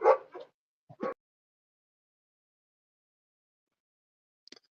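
Dogs barking in a short burst of a few yips and barks at the start, fairly close and loud, then a long silence broken only by a faint brief sound near the end.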